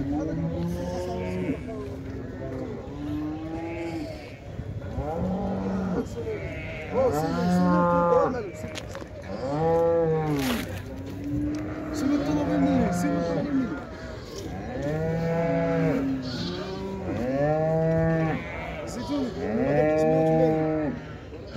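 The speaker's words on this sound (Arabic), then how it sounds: "هذا بقر قزاري" Gzari cattle at the Khemis Ouled M'rah Sidi Hajjaj weekly livestock market moo repeatedly, with loud, close, drawn-out calls overlapping one another over a steady murmur of market crowd noise.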